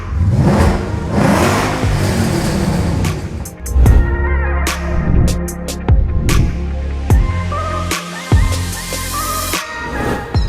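A modified Ford Mustang with a 5-liter V8 muscle car engine revs hard in repeated bursts, loud and close, rising and dropping with sharp throttle blips and brief pauses between pulls.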